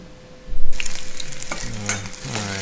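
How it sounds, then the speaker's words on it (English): Potatoes drop into hot oil in a pan and start frying for a Bengali potato tarkari, a sudden loud sizzle that continues as a steady crackle close by, with no talking. "I'm gonna put some oil into a pan. And first I'll start by putting the potatoes in."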